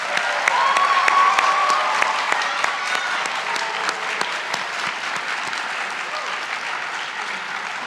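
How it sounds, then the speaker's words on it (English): Sustained applause from an audience for finalists at a university research talk competition, a dense, even patter of clapping with a brief whistle early on, gradually tapering. "Let's give them one more round of applause."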